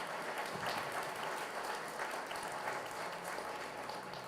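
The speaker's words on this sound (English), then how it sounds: "Let's give them a big round of applause for that." A hall audience gives a big round of applause, dense steady clapping filling the space from start to end with no talk over it.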